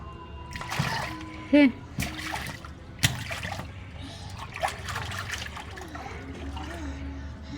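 A child slaps and splashes water with the hands, giving a few sharp splashes and trickles amid low background noise while an adult talks over it.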